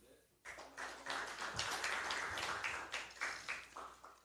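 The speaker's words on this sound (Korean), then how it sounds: "박수로 환영해 주시기 바랍니다" Attendees at a political party policy proposal ceremony applaud to welcome arriving guests, a sustained burst of crowd clapping that starts abruptly and continues unevenly, with a voice speaking faintly underneath.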